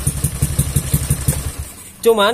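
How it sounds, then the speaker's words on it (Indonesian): A carbureted Honda Beat scooter's electric starter cranks in quick rhythmic pulses for about two seconds, then the engine catches and fires up into a loud, close idle. "Nah, sekarang kita coba untuk di starter."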